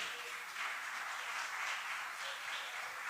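A church congregation applauds together in sustained, fairly faint clapping that carries evenly from a distance, with no voice rising above it.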